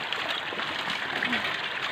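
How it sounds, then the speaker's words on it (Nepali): A river flowing nearby, a steady broadband rush of water that fills the moment continuously and sits close to the listener. "फाइनली खोलामा आइसक्यो हामी"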